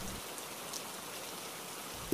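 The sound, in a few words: rain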